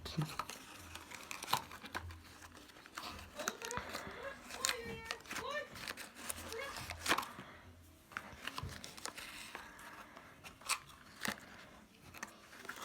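Plastic bag crinkling while a man unboxes an Alcatel Go 1 phone: soft, irregular rustles and crackles, fairly quiet and close, with intermittent talk over them.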